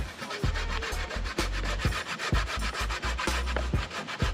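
Sweet potato is grated by hand against a grater for Jamaican dumplings, making loud, close, rhythmic rasping strokes in quick succession, with no talking.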